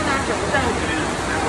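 Falling water in Kentucky makes a steady, rain-like hiss that fills the space evenly, with a person talking over it.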